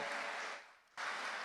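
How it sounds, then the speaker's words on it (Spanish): A church congregation applauding, a dense wash of clapping that dips briefly and then resumes at full strength, steady and fairly distant. "Denle un fuerte aplauso a Cristo"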